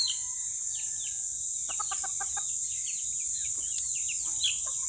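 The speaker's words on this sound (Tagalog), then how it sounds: "Ayan yung maliit na sisiw yan." Small chicken chicks peep and chirp in a quick scattered chorus, some calls closer and clearer than others, over a steady high electrical hiss and faint low background noise.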